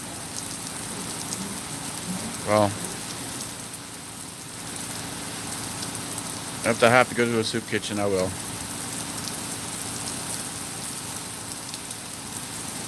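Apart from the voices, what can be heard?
rain falling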